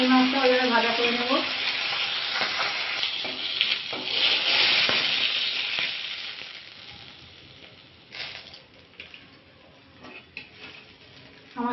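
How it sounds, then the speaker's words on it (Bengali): Bhetki fish frying in hot oil in a pan for a Bengali fish curry: a steady, fairly loud crackling sizzle with scattered pops, easing and thinning out toward the end, with no talking. "এই মাছটা ওইভাবে ভাজা করে নেব।"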